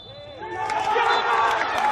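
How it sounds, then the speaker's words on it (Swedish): Football crowd in a Svenska cupen quarter-final between Hammarby IF and IFK Göteborg roaring after a penalty is given, a dense, rising wall of cheers and shouts with a commentator speaking over it. "Och det är jubel"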